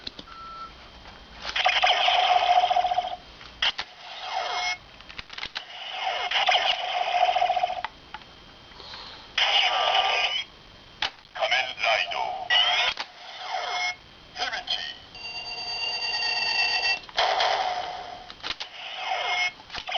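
Kamen Rider Decadriver toy transformation belt sounds play in bursts: beeping tones, chimes and synthesized jingles, starting and stopping repeatedly with short gaps between.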